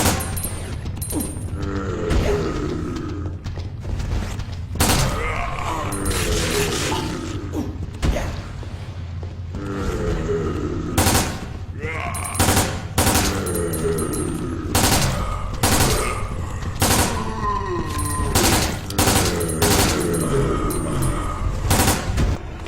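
Gunfire in the video game Resident Evil Dead Aim, a shooter set on a cruise ship overrun by zombies: repeated loud bursts of shots come in clusters over game music and mechanical creaks, with no talking.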